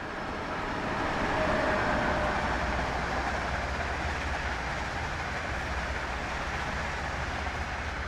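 Passing train in the simulator Train Sim World 2, a steady, loud rolling rumble with a broad rushing wash of rail noise that holds throughout.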